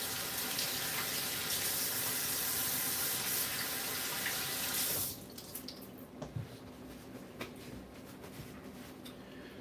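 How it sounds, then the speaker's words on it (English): Water runs steadily from a kitchen tap into a sink during handwashing for about five seconds, then shuts off, leaving a few faint drips and small clatters in a quiet room. "let me wash my hands so I can point it out"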